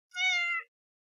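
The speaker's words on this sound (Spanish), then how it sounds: "Miau." A single clear cat meow, close and moderately loud, rising and falling over about half a second before silence.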